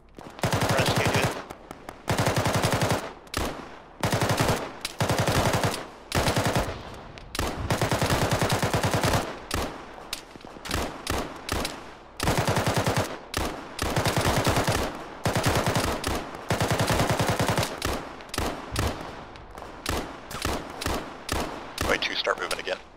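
Heavy automatic gunfire in an Arma squad firefight: long loud bursts of rapid shots repeat through the whole stretch, with short gaps between volleys and scattered single cracks.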